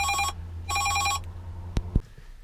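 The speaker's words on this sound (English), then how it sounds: "There's the boss ringing us." A telephone rings in two long trilling bursts, loud and close, followed by a couple of sharp knocks, heard inside an HGV Class 1 truck cab on a foggy morning.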